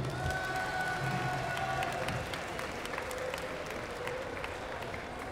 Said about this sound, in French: On peut applaudir Alexis !